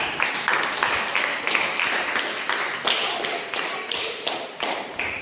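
A classroom audience of students claps steadily for a classmate in a lesson, a dense patter of many hands with periodic louder bursts, fairly close and continuous throughout without talk.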